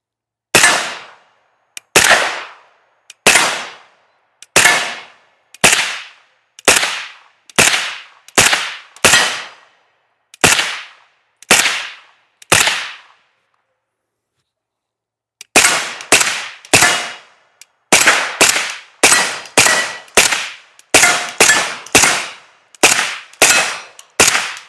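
An AK Honey Badger rifle fires loud, sharp single gunshots close up in an uneven rhythm, around twenty-five in total, with a pause midway before a quicker run of shots.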